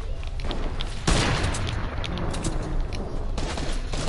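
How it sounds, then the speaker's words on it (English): Enemy gunfire aimed at the player in a shooter game: rapid volleys of shots with a heavier boom partway through, steady and moderately loud, with no talk over it. "Why are they all shooting at me?"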